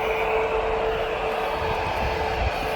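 An airliner at Birmingham Airport, a loud steady jet engine roar that sits close and unbroken throughout.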